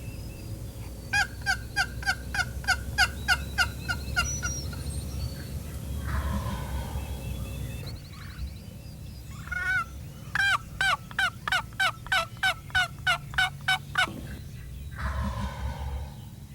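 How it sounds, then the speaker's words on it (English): Rapid rattling, rhythmic bursts of a wild turkey box call or a spring gobbler's gobble ring out in two long runs, with a fainter call in between, over an outdoor background. No one speaks. "This box has certainly got this gobbler interested."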